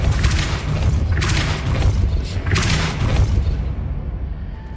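Deep booming thuds and rumbling magical blasts from the Depulso spell in the video game Hogwarts Legacy, several heavy impacts over a constant low roar, loud and close, with no talking.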